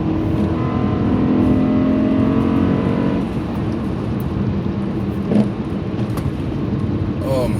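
A 2007 Honda Accord V6 with a six-speed manual pulls hard in third gear, its engine drone steady and loud from inside the cabin, with a rising harmonic whine that eases off partway through.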